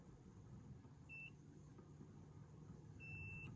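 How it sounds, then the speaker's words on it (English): Two short electronic beeps from a multimeter continuity test on a truck fuse, the first brief and the second longer, over a low steady room rumble. "You would touch both sides of the fuse at the same time, and if it beeps, your fuse is good"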